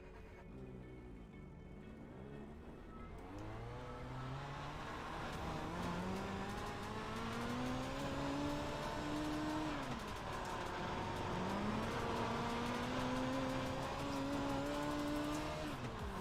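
A race car in a racing simulator video game revs and accelerates, its engine note climbing steadily in pitch through the gears with brief drops at each shift, a continuous strained whine with no talk over it.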